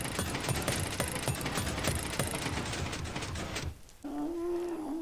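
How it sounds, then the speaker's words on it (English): Minecraft trident spinning round inside a blaze farm, a rapid mechanical clicking and whirring that runs steadily for several seconds before cutting off, followed by a brief tonal game sound. "flick on the lever and you should hear the trident going round"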